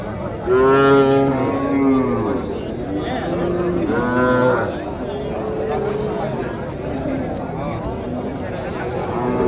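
Cattle and calves at a native cattle market in Madrapalli moo repeatedly in long, drawn-out calls, several animals overlapping up close, over steady market crowd noise.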